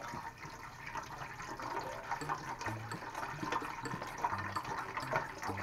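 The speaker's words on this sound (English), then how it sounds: "So let's add our vegetable broth." Vegetable broth pours into a soup pot in a steady, gurgling stream that runs for several seconds, moderately close, with faint background voices under it.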